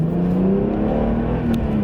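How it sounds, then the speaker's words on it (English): A BMW E46 M3 with its S54 engine, not yet warmed up, idling and revving steadily up close, a dense continuous engine drone with no talk over it. "you're listening to this car for the engine music, for that S54 engine"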